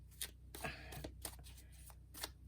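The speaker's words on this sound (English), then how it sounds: "So I'm going to keep shuffling" Tarot cards being shuffled in short, separate bursts of crisp card noise, close but soft, with quiet gaps and a low background hum.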